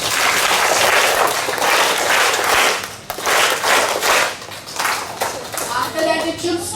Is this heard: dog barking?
no